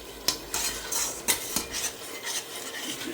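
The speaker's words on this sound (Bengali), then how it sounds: "তো দেখতে পাচ্ছেন মশলা কষানো হচ্ছে।" Spice paste for chicken curry being stirred and sautéed with a little water in a pan. Rhythmic scraping strokes and utensil knocks sound up close over a low sizzle.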